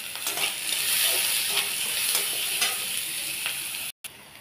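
Sliced onion and chilli fry in a pan over low heat with a continuous close sizzle and occasional soft spatula stirs, ending in a brief cut-out, no talking.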